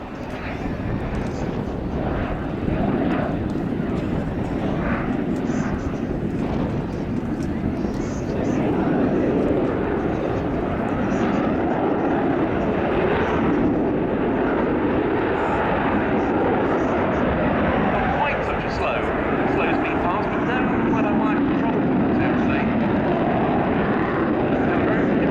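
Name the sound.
Polish Air Force MiG-29 jet flying at air show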